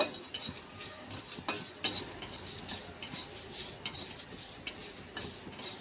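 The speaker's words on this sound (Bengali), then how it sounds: "ভালো করে মশলাগুলোকে ভেজে নেব" Dry chillies, coriander and cumin are stir-fried in a wok, with repeated clinking scrapes of a metal spatula against the pan at a steady rhythm over faint sizzling.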